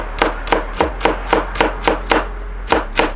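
A knife slices through smashed, peeled garlic cloves on a cutting board, with about ten crisp, evenly spaced chops in a steady rhythm, close and clear over a low background hum and no talking.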